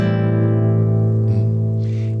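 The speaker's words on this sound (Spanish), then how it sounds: "Que se llama menor 7, que suena así." A minor seventh chord held and sustained on an instrument in a radio studio, one steady sonorous chord ringing loudly and alone for about two seconds.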